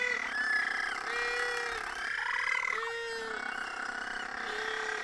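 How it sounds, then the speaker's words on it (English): At night in the Oamaru colony of little blue penguins, several birds bray, growl and screech together in a loud, layered chorus of long tonal calls, one warbling cry rising above the rest midway. "the little blue penguins would have this range of sounds from growls to screeches to almost braying"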